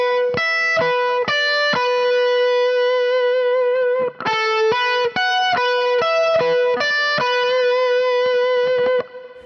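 Distorted electric guitar plays a legato run with hybrid-picked notes, ringing bright and sustained through an effects unit; phrases of quick notes are separated by a brief gap around the middle, with no talking.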